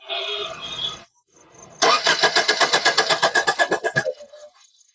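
An old-model Maruti Suzuki Swift Dzire diesel engine with low fuel pressure cranks in a rapid, even rhythmic chugging burst of about two seconds and fails to catch, following a short earlier whir.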